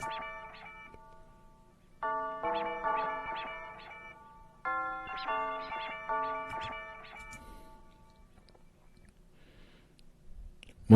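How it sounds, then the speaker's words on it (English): A synthesized bell plays a melody in a trap beat, ringing out in bright, repeated chiming phrases with short pauses between groups of notes, heard alone without drums or voices. "So the bell sounds like this."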